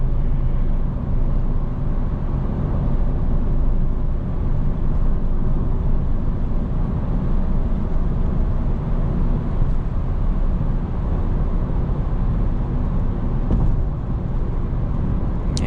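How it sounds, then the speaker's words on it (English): A 2008 BMW 328xi Sport Package with a muffler delete and custom intake cruises along, its exhaust a steady, loud low-pitched drone that stays constant throughout, with no voices heard. "Muffler delete sounds really good on this car."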